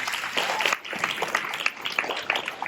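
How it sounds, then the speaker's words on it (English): A class claps at a 6th grade awards ceremony, scattered individual hand claps forming a light, uneven round of applause, near and moderately loud. "that definitely deserves a round of applause."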